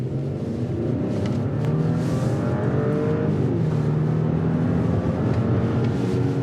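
An Audi Q8 S accelerates in a steady, droning engine roar heard from inside the cabin, with road noise underneath and no clear shifts.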